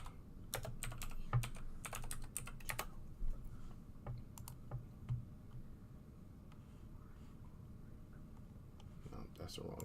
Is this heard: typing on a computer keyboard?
yes